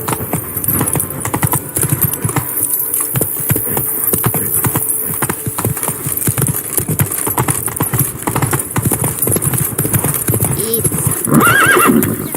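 Roach, a horse in the video game The Witcher 3, gallops with loud, rapid hoofbeats and lets out a whinny, while voices talk over the running clatter.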